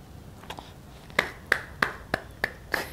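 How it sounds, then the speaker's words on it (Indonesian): A small group claps in scattered, uneven bursts, several sharp hand claps spaced about a third of a second apart at a moderate distance, with no one talking over them. "Tepuk tangan melulu ya."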